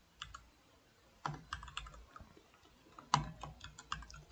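Quiet keyboard typing while writing Flutter code: scattered, irregular clicks of single keys and short bursts, heard up close and softly with no voices.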